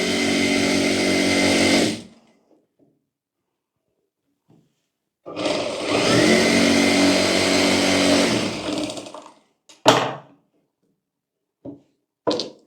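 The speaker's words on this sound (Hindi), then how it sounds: "यहाँ पर भी हम ऊपर की साइड एक एक सिलाई कर लेंगे" Sewing machine stitching a blouse, heard in two loud whirring runs of a few seconds each, split by silence and followed by short clicks and knocks.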